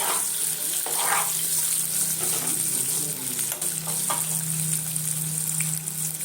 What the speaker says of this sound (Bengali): তাহলে আলুটাকে সুন্দর করে ভেজে নিতে হবে হলুদ দিয়ে